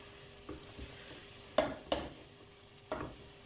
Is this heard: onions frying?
yes